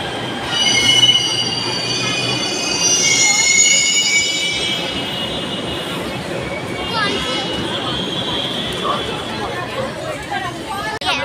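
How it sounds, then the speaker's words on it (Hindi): A metro train pulls into a station with a long, loud metallic wheel squeal over rumbling carriages, the screech easing off partway through, with crowd chatter in the background. "फाइनली आ गए हैं मेट्रो स्टेशन पे और we are waiting for the metro"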